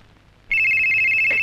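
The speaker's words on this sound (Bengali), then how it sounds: "ফোন বাজে।" A telephone starts ringing abruptly with a loud, steady electronic tone that holds unbroken through the rest of the moment.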